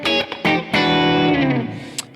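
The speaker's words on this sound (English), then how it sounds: "I can be in the middle position here and have both guitars in humbucker mode." A PRS SE Paul's electric guitar with both pickups in humbucker mode plays a few short, bright, sustained chords and notes, loud and close, with the last ringing out and fading.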